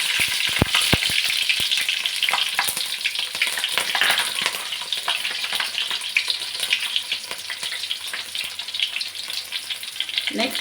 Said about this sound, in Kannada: ಇದಾದಮೇಲೆ ಹೆಚ್ಚಿರೋಂಥ ಹಸಿಮೆಣ್ಸಿಕಾಯಿ ಹಾಕ್ತಿದ್ದೀನಿ.